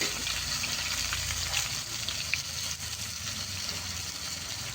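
Onions frying in hot oil with cinnamon and cardamom for a thin mutton curry, giving a steady, close sizzle that holds at an even level throughout with no talking.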